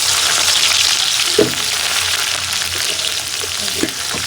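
Loud, dense sizzling of onions frying in hot oil with a pinch of fenugreek seeds runs unbroken throughout, with a couple of soft stirring knocks near the pan.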